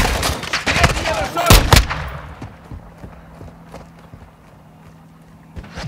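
A rapid burst of loud gunfire cracks in the first two seconds of a DMZ video game match, then scattered fainter shots echo over a low background hum.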